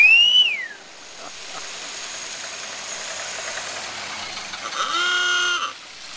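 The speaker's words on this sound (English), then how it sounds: "Listen to those engines." Ford Model A engines idle and rumble steadily nearby, with a brief whistle at the start and a rising engine whine near the end.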